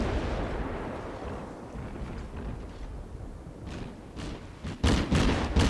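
Warship guns booming in a World of Warships naval battle, the German cruiser Dresden engaging enemy ships: a steady rumbling barrage of distant firing, with several sharper, louder blasts close together near the end.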